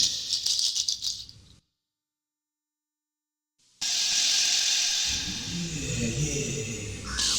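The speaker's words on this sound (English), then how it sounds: "So these are some shakers back in 2008 that we had." Hand-played shakers from a 2008 session give a bright, hissing rattle that cuts out into a couple of seconds of silence, then returns louder with a low percussive murmur underneath.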